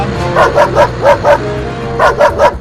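A dog barks in quick yapping bursts, several sharp barks in a row, a pause, then another rapid cluster, close and loud.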